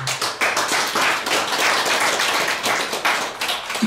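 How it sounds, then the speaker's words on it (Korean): An audience at a monk's book launch gathering applauds Venerable Myeongseong: dense, continuous clapping from many hands, loud and close, with no talk over it. "명성 큰 스님께 한번 박수를 보내드리고 싶습니다"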